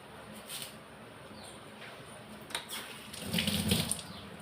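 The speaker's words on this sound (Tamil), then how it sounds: "கொஞ்சம் கருவேப்பிலையை கழுவி எடுத்துன்னு போட்டுடலாம்" Tap water runs at a kitchen sink while curry leaves are rinsed, a soft splashing trickle that swells louder near the end, close and with no talking.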